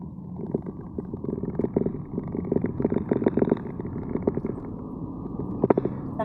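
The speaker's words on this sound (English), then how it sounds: "So you get that sort of little 3-cylinder thrum." Three-cylinder engine of a Citroen C4 Cactus thrumming from inside the car while driving, a low, steady, slightly uneven pulsing hum with light road noise, continuing evenly for several seconds.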